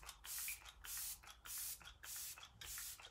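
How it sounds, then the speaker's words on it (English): Let It Set makeup setting spray from an Arbonne routine, released in five short, close, hissy mist bursts of about half a second each, spaced evenly with brief quiet gaps between. "I'm going to finish this look with a little Let It Set setting spray."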